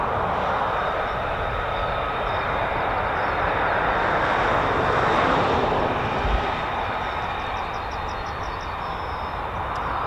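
A Lockheed F-35B stealth fighter at RAF Marham sends out a loud, sustained broadband jet roar that swells slightly in the middle, while small birds chirp faintly near the end.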